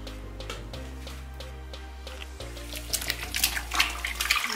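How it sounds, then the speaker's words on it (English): Crochet faux locs are squished and swished around in water, producing wet sloshing and splashing that builds toward the end, with a low steady hum running underneath. "Just mix it around with the water."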